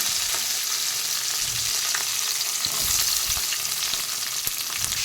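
Onions sizzle steadily in hot oil, a constant crackling hiss with a few soft stirring knocks, close and fairly loud.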